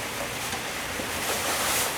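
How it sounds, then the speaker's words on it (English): Steady rain pours outside as a dense, unbroken hiss close to the microphone, with a faint wind-like rush and no voices. "Can you hear that rain? It's just never ending."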